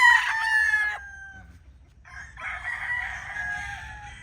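A Bruce Barnett Sweater gamefowl rooster crows loudly and close, one long strained crow followed by a second after a short pause, with no talking.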